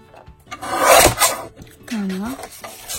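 Paper for a scrapbook album is cut close by in a couple of short rasping strokes, followed by a brief voiced sound.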